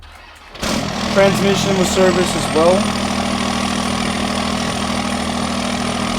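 A Cummins diesel truck engine in Farming Simulator 22 cranks and catches, then settles into a steady, loud, droning idle, with a person talking over it.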